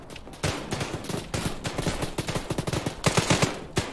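Rapid bursts of automatic gunfire from an Arma 3 firefight crack in quick clusters, moderately loud and close, with no voices over them.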